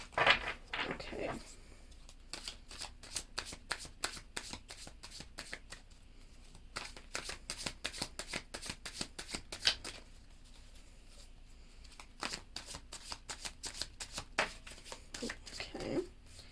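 A deck of tarot cards is shuffled by hand up close, producing quick bursts of crisp riffling and flicking, separated by short pauses.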